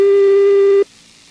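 A telephone busy tone after a dropped call: one steady, loud electronic beep that holds for most of a second and then cuts off, leaving a quiet line with no voices.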